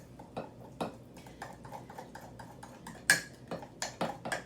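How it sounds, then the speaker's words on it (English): A spoon stirring cupcake batter in a mug, giving a string of light, irregular clinks and taps against the ceramic, close and quiet, with one brighter knock near the end. "So we're gonna mix this up with our spoon"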